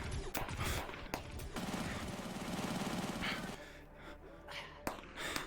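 Rapid gunfire crackles in a VRChat gang roleplay shootout: a steady run of closely spaced shots at moderate loudness, with a few sharp bursts before and after and breathy voices mixed in.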